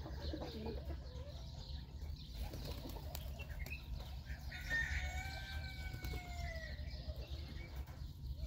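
Pigeons being fed grain in Al-Qassim, Saudi Arabia, heard as a lively flock with fluttering wingbeats and scattered cooing calls over a steady low outdoor rumble, continuous throughout with some brighter chirping birds mixed in.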